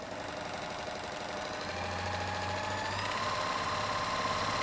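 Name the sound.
Viking Huskylock 1002LCD serger sewing rolled edge on cotton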